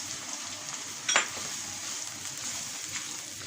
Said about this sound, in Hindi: ऑनियन को थोड़ा सा फ्राई करेंगे